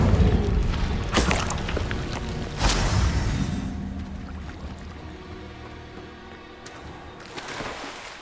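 Incendio fire spell cast in Hogwarts Legacy, a loud whooshing burst around the three-second mark after an earlier impact, then a roaring tail that slowly fades under faint background music.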